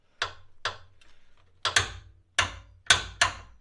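A wrench tightens a brace bolt on a Nissan 350Z brake master cylinder, giving six sharp close metallic clicks in irregular pairs and singles with short gaps between.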